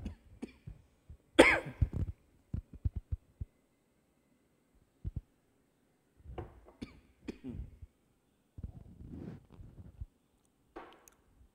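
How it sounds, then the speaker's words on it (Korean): Someone with a dust allergy coughs during a quiet Wednesday church worship service: one strong close cough followed by scattered short throat sounds and coughing bursts separated by silence. "먼지만 딱 들어가면 기침이 납니다"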